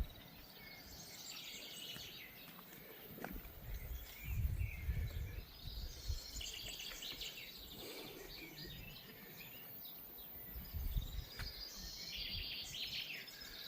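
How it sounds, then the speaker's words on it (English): Birds chirp and sing in the open air at Olympia, Greece, in a green setting near water, with scattered calls over a soft outdoor background and occasional low rumbles. "the sound of the birds"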